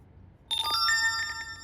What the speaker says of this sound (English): Okay, you see I received the notification.